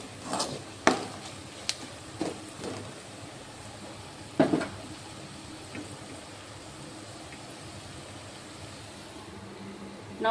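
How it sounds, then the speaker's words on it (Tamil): Onions with garam masala and chilli powder sizzle softly while sautéing in a pan. A faint, steady crackle is broken by a few sharp pops and spits. "நல்லா பச்சை வாசனை போகிற அளவுக்கு வதக்கி எடுத்துக்கலாம்"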